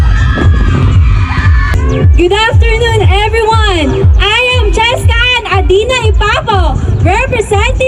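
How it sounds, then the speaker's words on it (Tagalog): A large crowd of barangay supporters at a muse introduction event in Meycauyan, Bulacan shouts, cheers and whoops loudly and continuously, voices rising in waves with high-pitched calls throughout. "Sigawan nga dyan mga taga-banga!"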